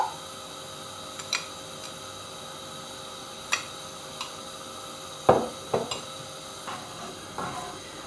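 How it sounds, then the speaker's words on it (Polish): Cranberry sauce with sugar and balsamic vinegar is stirred in a pot, a spoon giving sparse scrapes and knocks against the pot over a steady low hiss, close and fairly quiet. "Wszystkie składniki mieszam, żeby nam się nic tutaj nie przypaliło."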